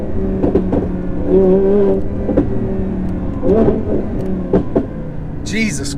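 A supercharged Audi R8 V10 Plus with about 850 horsepower accelerates hard from inside the cabin. The engine drone rises and falls through gear changes under steady talk.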